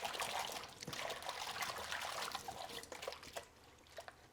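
Soaking water poured out of a sink or bowl after rinsing baby bok choy, a steady close trickling and splashing stream that tapers off near the end.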